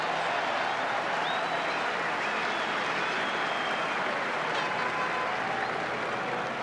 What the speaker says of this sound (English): Grant Fox, the crowd's happy.